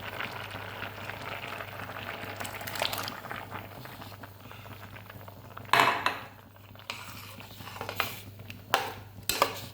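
Chickpea curry simmering in a pot on the stove, a steady low bubbling bed with occasional clinks of a spoon or utensil against the pot, close and moderately quiet.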